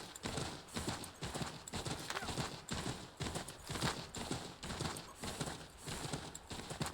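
Galloping horse hooves from Assassin's Creed 3, a steady rapid clip-clop rhythm, loud and close throughout with a dense wash of background game sound.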